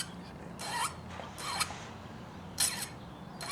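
A metal file rasping a bevel on the fret tang of a Harmony H162 guitar: three or four short, bright scraping strokes, close and crisp, separated by quiet pauses, with no talk.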